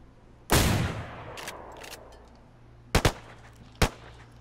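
Gunfire in a zombie survival video game: one loud shot ringing out, then a quick pair of shots and one more a moment later, all fairly close over low background hum.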